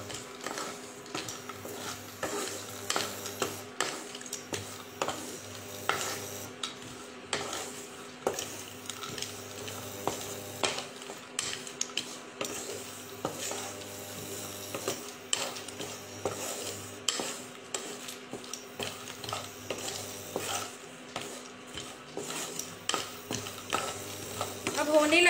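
Ingredients are dry-roasted in a pan and stirred often, with faint sizzling under repeated scrapes and clinks of a spoon against metal. The sounds come in close, irregular bursts throughout, and a low hum runs underneath.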